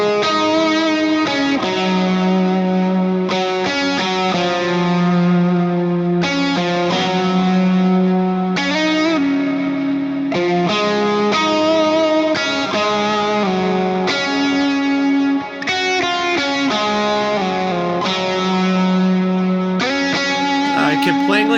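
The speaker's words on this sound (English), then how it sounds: "The distortion was thick yet pleasant to my ears" Electric guitar through a JET Pedals Mr. Jax distortion pedal plays chords and melodic lines continuously, thick and saturated, with steady loudness and a few brief pauses between phrases.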